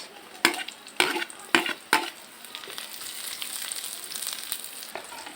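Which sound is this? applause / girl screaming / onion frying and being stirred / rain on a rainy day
onion frying and being stirred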